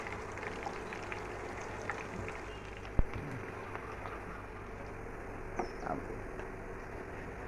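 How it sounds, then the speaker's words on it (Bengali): Potato and flour pieces sizzling in deep soybean oil as they are turned, a constant crackling fry with scattered small pops and one sharp utensil knock near the middle. "এখন সুন্দরভাবে এটা উল্টে পাল্টে ভাজতে হবে লাল লাল করে।"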